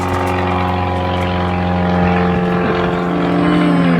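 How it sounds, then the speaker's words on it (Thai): An airplane passes overhead during mushroom picking outdoors, its engine giving a loud, steady droning hum with strong sustained tones that fill the whole stretch without pause. "เสียงเครื่องบิน"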